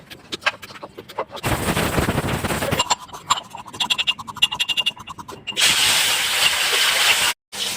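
Cucumber fries in a hot pan, giving loud bursts of sizzling hiss broken by sharp crackles and pops, with quieter spitting between the bursts.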